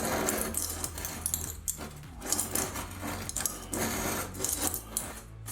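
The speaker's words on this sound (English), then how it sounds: "I turn to a more heavy duty scraper to take out the rest" A heavy duty scraper with a long handle and a strong, sharp blade scrapes old tile adhesive from a wall gap in a series of close, rough, gritty strokes with bits crumbling and clicking.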